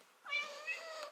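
A cat lets out a single drawn-out meow, close and fairly soft, rising at the start and trailing off after about a second in an otherwise quiet room.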